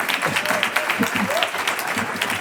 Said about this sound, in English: Let's give another applause for that.